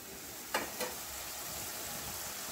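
Fried chicken stirred in a hot pan of oil, a constant bright sizzle with two quick scraping stirs near the start, no voices.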